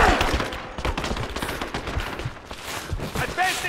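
Rapid bursts of automatic gunfire and scattered shots crackle through a Rise of the Tomb Raider firefight, dense and continuous across the moment, with shouting voices mixed into the combat.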